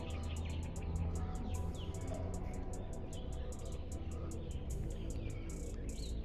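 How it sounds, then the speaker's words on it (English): Rapid, high-pitched bird chirps repeat over a steady background hiss in Nong Khai, Thailand, with birds calling continuously at a moderate distance. "do you guys hear the birds?"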